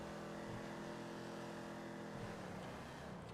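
Car engine in a video game roaring steadily at high speed down a freeway, a loud continuous drone with no talk.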